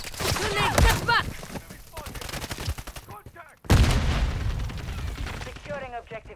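Rapid gunfire, explosive bursts and grenade blasts from Call of Duty: Modern Warfare III on an Afghan map, loud and close with sharp repeated cracks, a sudden boom partway through, and in-game voices calling out over the fighting.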